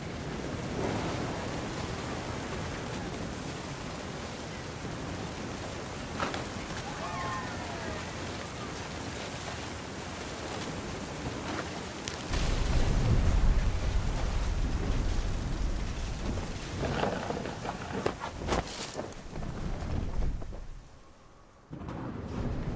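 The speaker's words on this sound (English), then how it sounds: "The thunder sounded much too close and full of angry power." Rain and a thunderstorm rumble through a beach scene in the video game What Remains of Edith Finch, with steady washing rain and wind, a heavier low surge midway, and a narrator's voice speaking over it.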